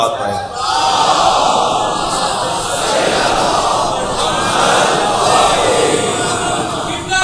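A large crowd at a majlis gathering recites salawat loudly and in unison, a dense, steady roar of many voices that holds for the whole stretch.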